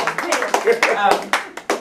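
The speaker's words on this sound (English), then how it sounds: "What a clap, Sid. What a clap." Sharp, close claps punctuate an event gathering, landing in a loose rhythm among lively voices talking over them.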